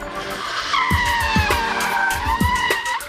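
A car brakes hard with its left and right wheels on different surfaces and spins, giving a loud, sustained tire squeal that rises and wavers over about three seconds, with pulsing low rumbles from the tires and engine beneath.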